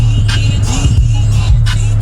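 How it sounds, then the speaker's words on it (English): Road traffic in Riyadh near a hospital parking lot, a steady low engine rumble with passing vehicle whooshes swelling and fading at intervals, continuous and fairly close. "traffic everywhere"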